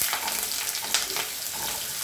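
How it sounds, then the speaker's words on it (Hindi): Mango pieces frying in a hot pan produce a dense, continuous sizzle with a faint bubbling texture, close and fairly loud throughout. "आम डाला"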